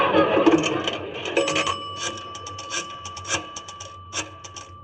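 A nickel drops into a 1940s pay station telephone and the call is placed, bringing mechanical clicks and bell-like chimes in an uneven series of sharp, close tones with a steady faint hum beneath.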